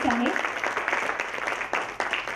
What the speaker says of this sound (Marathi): सर्वांनी जोरदार टाळ्या वाजवून त्यांचं स्वागत करायचं आहे